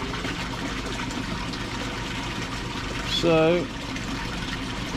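Water gushing steadily from an 8,000 litre per hour koi pond pump fills the scene with a continuous broadband rush, a brief tonal whistle rising near the end, and a voice speaks briefly over it.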